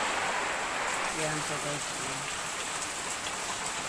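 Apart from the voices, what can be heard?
rain and wind during Typhoon Ulysses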